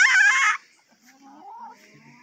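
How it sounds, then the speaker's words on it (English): Plump rooster giving one short, loud squawk-like cluck up close, followed by faint, low murmuring clucks. "The fat guy, the rooster."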